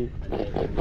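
Freshly caught fish pulled up on a bottom-fishing boat trip, giving a few short, rough grunts close by in quick succession.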